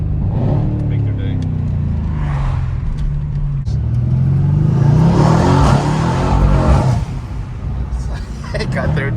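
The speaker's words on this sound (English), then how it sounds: "you can just hear the turbos" Tuned Mercedes C63s AMG on the move, engine droning loud and steady with rising turbo whoosh and hiss swelling midway, heard from inside the car with voices talking over it.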